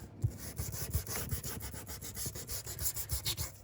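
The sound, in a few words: sanding the edges of a paper craft wallet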